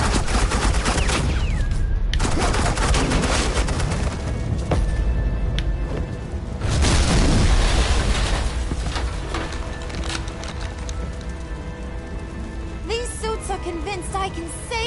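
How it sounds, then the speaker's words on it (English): Suppressing gunfire in the video game Batman: The Enemy Within: dense, continuous rapid shots and booms over a loud game soundtrack, with a brief drop in intensity and some voices or effects mixed in. "suppressing fire."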